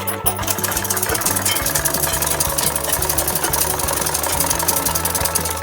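A sewing machine stitching along a salwar sleeve runs continuously with a fast, even mechanical whir and rhythmic needle ticking, loud and close, with no talking.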